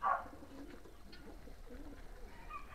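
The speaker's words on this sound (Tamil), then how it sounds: "இதெல்லாம் வந்து புறாவோடைய கேஜ்." Lahore pigeons kept in a cage coo at a private mini zoo, a soft low coo standing out near the start over a steady murmur of outdoor background noise, with faint bird calls later.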